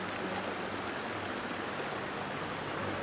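Water from a stream washes over a gold-prospecting carpet as it is rinsed, a steady, close hiss of rushing water with no other sounds.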